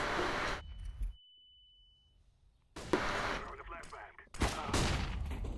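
Gunfire from the CS:GO video game comes as short sharp bursts separated by near silence, with a steady electronic tone in the quiet gap and a voice talking over the shots.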